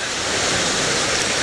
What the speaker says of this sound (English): Wonderful surf. It's mesmerizing.